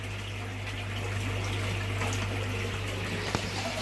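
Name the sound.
water pouring during aquarium water change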